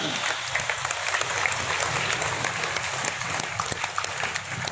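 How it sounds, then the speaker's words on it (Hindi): An audience at a Shrimad Bhagavat Katha held at a cow hospital in Nagaur claps in welcome, a continuous patter of hand claps with a few sharper individual claps, and a voice faintly present beneath. "दोनों हाथ खड़े कर तालियों से स्वागत"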